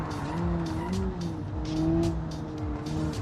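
A custom-built car drives and corners in the driving simulator BeamNG.Drive, its engine droning steadily with a wavering pitch. Faint tire noise comes in repeated soft bursts over a few seconds.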